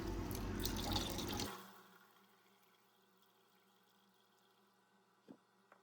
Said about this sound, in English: so we can recover the silver from this blue liquid that I'm pouring off.